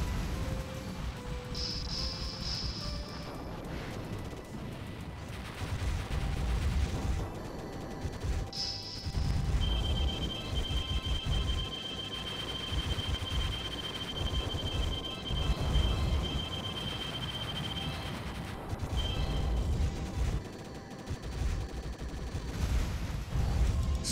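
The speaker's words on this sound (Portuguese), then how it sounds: "Os caras já aparecem na tela dando tiro" Enemy gunfire in the arcade shoot-'em-up Progear, a dense, continuous barrage of shots and crashing explosions running steadily under high electronic tones, with no talk.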